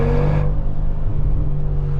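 A 2025 facelift Mercedes G63 AMG V8 accelerates hard at high RPM, a loud, close, sustained engine roar that eases slightly after the opening moment, with no talking.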